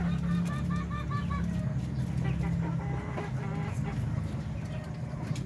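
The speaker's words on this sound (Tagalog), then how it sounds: "4 hen and 1 rooster" Darag native chickens, four hens and a rooster, clucking and calling close by in a steady low-level murmur with faint voices in the background.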